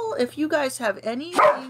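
A dog gives a couple of short, close barks, mixed in with a person talking over them.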